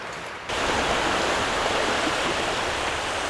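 A small stream flows at the base of Shichiyama on the Uradome coast in Tottori, starting abruptly as a steady, close, broadband rushing babble of water with no voices.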